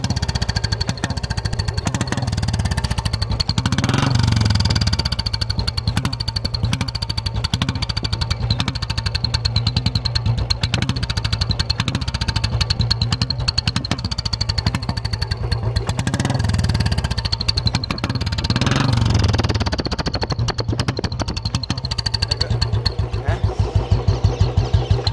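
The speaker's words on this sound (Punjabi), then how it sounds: "ਬੁਲਟ ਦੇ ਸਲੈਂਸਰ 'ਚ ਵਿਸਲ ਲਾ ਕੇ ਤੁਹਾਨੂੰ ਅਸੀਂ ਆਵਾਜ਼ ਸੁਣਾਤੀ ਪ੍ਰੋਪਰ।" A Royal Enfield Bullet motorcycle fitted with a turbo whistle in its silencer, starting and idling with a loud, close, steady thumping exhaust, a thin whistle tone riding above the throb and a few revs along the way.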